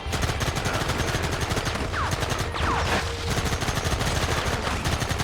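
Rapid gunfire in Red Dead Redemption as targets on the horizon are engaged, a dense continuous rattle of many overlapping shots with a few whistling ricochets, loud and sustained throughout.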